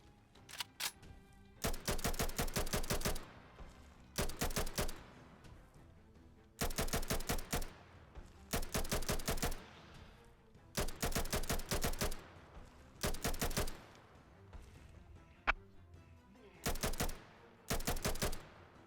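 Automatic AK rifle fire in a modded video game, loud rapid bursts of shots repeating in short volleys throughout with brief pauses between, no voices.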